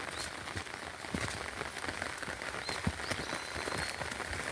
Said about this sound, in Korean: 비가 오는 날씨인데